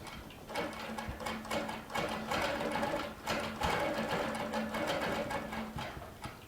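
A Baby Lock Regent sewing machine quilts in the ditch with a quick, rhythmic needle chatter close by, steady and continuous, with no talking.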